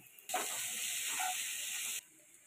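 Chopped onions dropped into hot oil burst into a loud, steady sizzle that starts abruptly, holds evenly close by for under two seconds, then cuts off to quiet.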